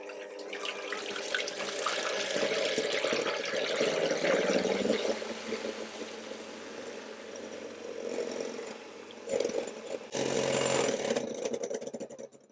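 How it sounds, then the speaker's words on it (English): Egg whites are whisked in a bowl until frothy for a butter cake, a steady whirring churn that runs for several seconds, briefly eases, then surges loud again. "I'm going to keep whisking, gradually adding in my 92 grams of sugar, and I'm going to whisk until the egg whites have achieved stiff"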